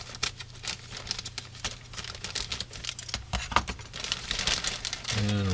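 Crinkling and tearing of plastic bags and packaging as a Revell 1932 Ford model kit is unboxed, close, busy rustles and snaps, with a brief low hum near the end.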